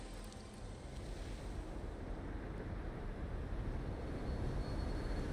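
Waves washing against rock in the side-scrolling game Salt and Sanctuary, a steady low rushing wash of surf that holds at a constant moderate level with no voices.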